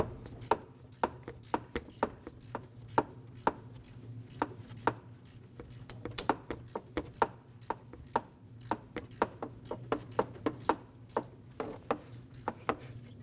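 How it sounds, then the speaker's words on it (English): Ratchet wrench with a 13mm socket breaking a bolt free on a 2009-2010 Dodge Ram 1500, heard as a steady series of sharp, close clicks in irregular bursts over a low hum, with no talking. "I'm going to stick my ratchet with a 13mm socket on it and break this free"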